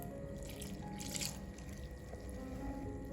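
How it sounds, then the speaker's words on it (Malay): Plain tap water runs and pours steadily into a bowl of durian apam batter, a continuous close splashing trickle with no talking. "dan saya tambah lagi air biasa."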